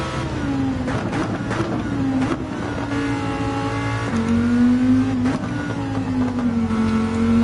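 A race car engine in an online racing video game howls steadily at high revs, its pitch dipping and climbing through gear changes and corners, loud and continuous with no talking.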